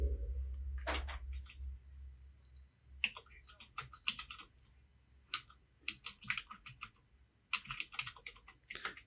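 Typing on a computer keyboard while entering text in MS Word, bursts of close, crisp key clicks in uneven clusters with short pauses between words.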